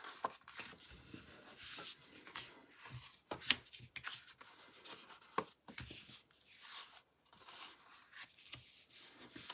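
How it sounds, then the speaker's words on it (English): Scored card stock being folded in half by hand: soft, close papery rubbing and rustling with a few sharp creasing clicks, quiet throughout and with no talking. "So first, fold it in half."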